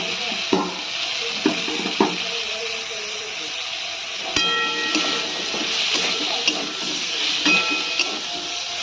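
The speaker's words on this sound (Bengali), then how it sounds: "এবার দিয়ে দেবো পেঁয়াজ। পেঁয়াজগুলো হালকা করে ভেজে নেব।" Onions and chopped tomato fry in a pan for chilli chicken, a continuous close hiss of sizzling broken by a few sharp clicks and knocks of utensils against the pan.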